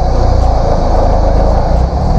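A car engine hums steadily with a slight rise in revs as the driver eases forward slowly into a tight spot while turning, clutch held at the biting point, a loud continuous rumble without talk.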